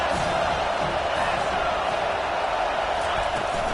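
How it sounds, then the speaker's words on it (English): Stadium crowd noise from College Football 25 during a Vanderbilt versus Tennessee game fills the clip, a continuous loud wash of roaring fans with scattered shouts and no clear words. "This crowd trying to make life miserable for this offense."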